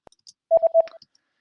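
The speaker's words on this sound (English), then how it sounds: "And the second one is this beep sound." Beep sound effect for a video edit: a short run of three or four clipped, tonal beeps in quick succession, fairly faint and isolated against silence.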